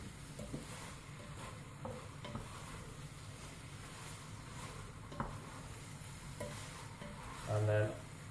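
Keema mince with spices being stirred round a pan, sizzling softly and continuously, with occasional scrapes and taps of the utensil against the pan and one brief louder clatter near the end; quiet and fairly close.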